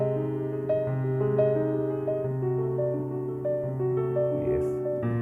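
Solo piano plays a flowing arpeggio with the sustain pedal held, so the notes blur together into a continuous ringing wash of rising and falling tones, close and steady.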